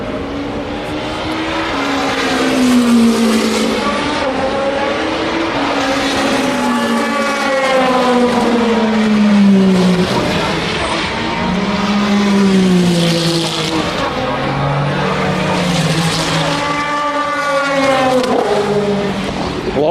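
LMP2 endurance race cars roaring past one after another, loud engines rising and falling in pitch with Doppler sweeps, continuous and close, no talking over them.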